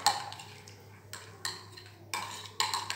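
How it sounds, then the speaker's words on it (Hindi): Cream being whisked in a bowl, heard as short bursts of light clicking and tapping that come in four separate runs over a low steady hum. "क्रीम को हम डालते ही फेंटना शुरू करेंगे ताकि अच्छी तरह क्रीम जो है मिक्स हो जाए"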